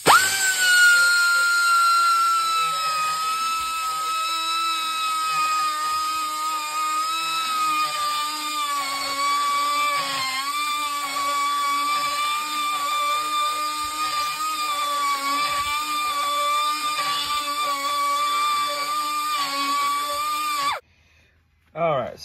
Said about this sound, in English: I gotta come in here with this little air grinder and ream it out some